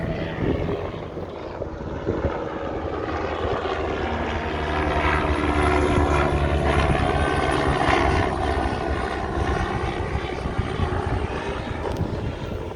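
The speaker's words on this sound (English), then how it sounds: "there's a helicopter flying over" A helicopter drones overhead, its rotor chop swelling louder midway and then easing off, steady throughout with no talking.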